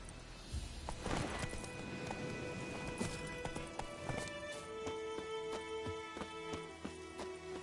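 Steady galloping hoofbeats of the horse Roach in The Witcher 3, a continuous rhythmic clip-clop close by with faint game music tones underneath.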